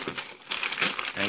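Christmas gift wrapping paper is torn open and crumpled close up, in a brief burst of loud crinkling and ripping.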